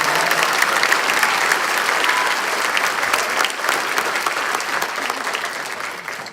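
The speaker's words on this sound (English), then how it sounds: "can we give another round of applause for our amazing 7th graders?" Sustained applause from an audience at a fall school band concert for 7th and 8th grade students, a dense, steady wash of clapping that fills the hall for several seconds, with no speech over it.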